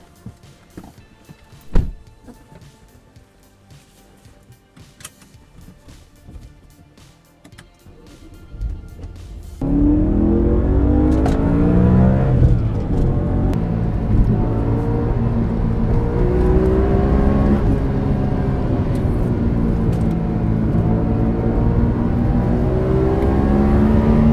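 A 2008 BMW M3 E90 engine starts up partway through and then holds a loud, steady roar with rising and falling revs, close by, after a quieter stretch of faint noises.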